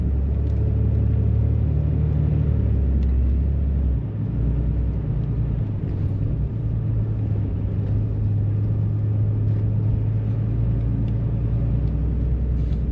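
Four-wheel-drive vehicle rolling along a forest road in Kanawha State Forest, West Virginia, with a continuous loud engine rumble and steady low drone from inside the cab, no talk.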